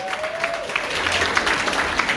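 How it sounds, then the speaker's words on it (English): Diners at the Uganda Nurses & Midwives Association of UK 2024 dinner applauding Herbert, an academic author, with dense, continuous clapping from a sizeable room, steady and fairly loud throughout. "Let's give Herbert a round of applause."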